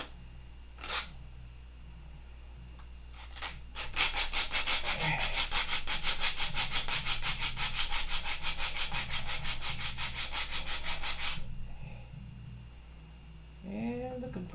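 Gen 4 horn clips are sanded by hand. After a few isolated scrapes, a long burst of rapid, even back-and-forth rubbing strokes runs for about seven seconds, close and clear, before stopping and giving way to a few softer handling noises.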